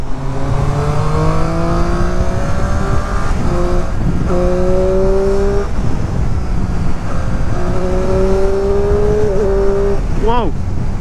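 A 2022 Triumph Street Triple RS motorcycle with quick shifter and 121 horsepower accelerates hard, its engine note climbing in pitch through several quick upshifts, loud and close with heavy wind noise and a voice over the engine.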